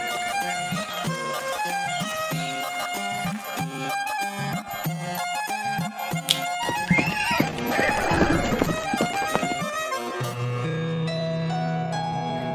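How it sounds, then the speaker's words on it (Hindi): Cartoon horses whinny and neigh repeatedly over a busy musical score, with rhythmic kicking and thumping effects building to a loud burst of commotion before the music settles. "एक घंटे से हमारे ही घोड़े हम लोगों को ही लात मार मार कर जान लेने पर उतारू हैं"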